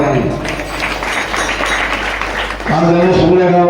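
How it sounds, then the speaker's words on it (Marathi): An audience at a kirtan gathering claps together for a singer. The applause rises under a voice and then continues beneath speech toward the end. "पौर्णिमासाठी सर्वांनी टाळ्या वाजवा सर्वांनी."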